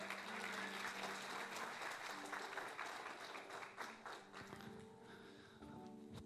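A church congregation applauds the Lord, clapping that starts full and dense, then thins and fades as a soft tonal hum, likely instruments, rises underneath toward the end.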